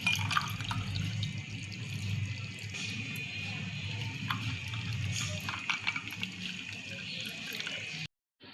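Mint lemon juice strained and poured into a glass over ice cubes: a steady, close liquid pour with splashing that runs for about eight seconds, then cuts off abruptly.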